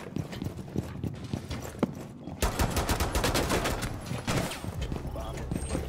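Gunfire in a video game, a fast stream of sharp shots filling most of the scene, loudest after the opening seconds, with a person talking over it.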